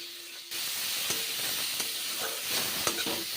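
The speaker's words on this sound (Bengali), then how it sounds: "এখন আমি মাশরুমগুলো ভেজে নিচ্ছি। সর্ষের তেল দিয়ে রান্না করছি।" Mushrooms sizzle in hot mustard oil in a pan, a continuous close hiss and spatter with a few sharper crackles and pops.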